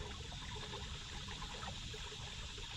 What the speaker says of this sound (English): we hear water. There it is. We're gonna fill up. Thank you, little spring.